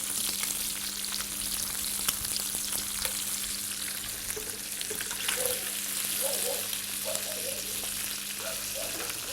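Quail escalopes and foie gras frying together in a lightly oiled pan in a restaurant kitchen, a steady close sizzle with faint crackles throughout, no talking.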